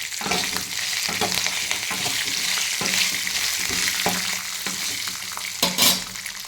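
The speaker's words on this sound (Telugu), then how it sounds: "ఇప్పుడు కొద్దిసేపు కరివేపాకు వేయే వరకు వేయించుకోవాలి." Curry leaves and salt fry in a pan with a steady, bright sizzle throughout, punctuated by regular scraping stir strokes about every half second, close and fairly loud, with no voices.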